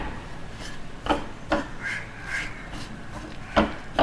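Wheat flour dough being mixed and kneaded by hand with water for a halwa, giving soft scattered rubbing and squishing sounds with a few sharper knocks, close and fairly quiet.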